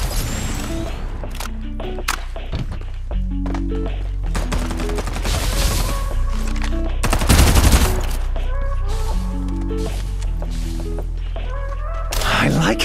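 Rapid bursts of gunfire in the battle-royale shooter Farlight 84, layered with game music and effects, loud and continuous with repeated volleys and a few heavier impacts.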